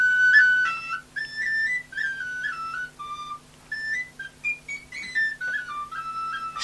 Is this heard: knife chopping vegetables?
no